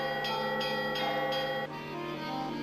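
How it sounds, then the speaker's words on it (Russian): Church bells cast by local bell makers ring in Cheboksary: a series of bright, resonant strikes at a steady, moderate pace, each leaving a long sustained ringing tone. "встретить такое обилие церковных колоколов"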